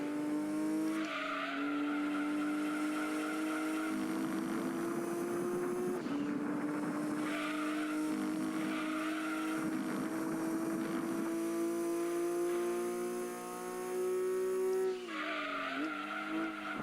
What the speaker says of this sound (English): I'm drifting too much.